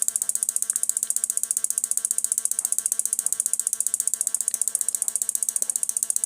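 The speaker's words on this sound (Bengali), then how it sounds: "আপনারা দেখতে পাচ্ছেন মেশিনটি কাজ করা শুরু হয়ে গেছে।" A homemade 12V inverter fish shocker built with four IRF3205 MOSFETs runs steadily, giving a fast, even mechanical buzzing rattle of rapid pulses with a bright high-pitched whine, continuous and close.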